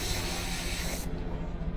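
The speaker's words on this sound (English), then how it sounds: "So let's spray that, see how it all look." Spray paint hisses onto a portrait in a steady, close, loud jet, then cuts off abruptly partway through, leaving a duller lingering hiss.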